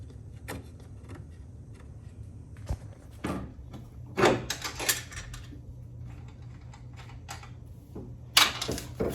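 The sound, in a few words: removing last strut bolt on Mitsubishi Eclipse coilover install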